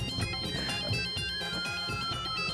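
A telephone ringtone for an incoming call plays loudly and continuously in an indoor scene, a repeating electronic melody with a steady pulsing pattern and no voices.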